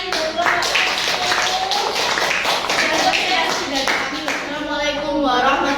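A classroom of children clapping together, dense continuous clapping close by mixed with lively chatter and voices throughout.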